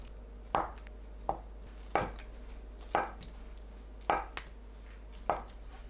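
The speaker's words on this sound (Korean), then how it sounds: "두부를 한 입 크기로 썰어주세요." A knife cuts tofu into bite-size pieces, producing six separate soft thuds on a cutting board at a slow, steady pace, near and quiet with no voices.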